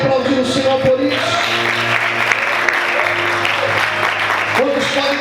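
A church congregation applauds in a dense, sustained burst of clapping that fills the room, with sustained tones playing underneath throughout.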